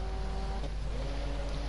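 A Ford Sierra Cosworth Group A touring car racing past at Zolder, a brief steady engine drone at moderate distance over a constant background rumble.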